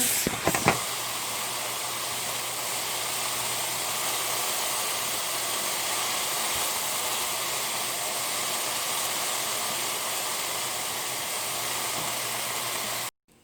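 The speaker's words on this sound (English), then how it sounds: "I've got my pasta boiling." A pot of boiling pasta gives a steady, loud, even hiss of steam and bubbling, unbroken for over ten seconds after a few clanks at the start.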